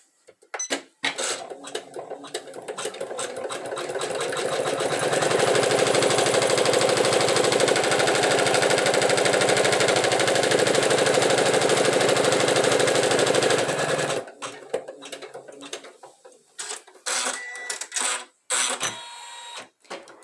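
A domestic embroidery machine stitches fabric with a loud, fast needle chatter that builds up, holds steady for several seconds, then breaks into intermittent clicks and stops.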